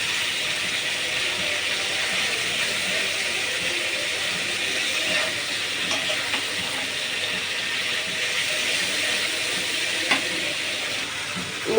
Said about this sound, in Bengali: মশলা দিয়ে দিলাম, মশলা দিয়ে এখন কষিয়ে নেব